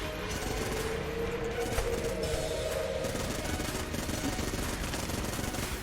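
Dense, rapid gunfire from the video game Enter the Gungeon rattles on without pause, a continuous loud fusillade of shots.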